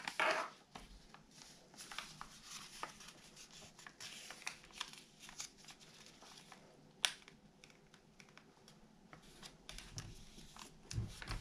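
Origami paper for an advanced tumble wing model is folded and creased by hand. Soft crisp rustles and sharp little crinkles come in short irregular bursts, close and quiet, with no talk.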